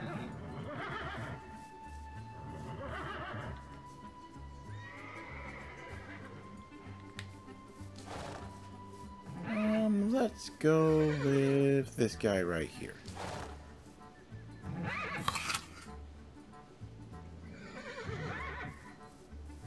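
Horses in Minecraft with custom, non-vanilla textures neigh and whinny in repeated loud bursts over soft hoof clip-clops, while someone talks over much of it.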